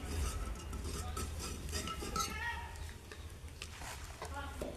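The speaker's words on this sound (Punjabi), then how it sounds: "ਕਰ ਦਾਂਗੇ ਮਸਾਲੇ ਨੂੰ ਮਿਕਸ ਥੋੜਾ ਜਿਹਾ ਹੋਰ ਸੇਕ ਲਵਾ ਲੈਂਦੇ ਆ" Masala for a radish curry being stirred and roasted in a pan, with steady scraping and clinking of a utensil against metal under continuous background noise, while someone talks throughout.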